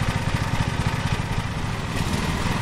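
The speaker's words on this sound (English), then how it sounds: "We'll hop on in, get the mower started on up." Riding lawn mower engine idling in the Lawn Mowing Simulator video game, a loud, close, steady chugging putter with no break.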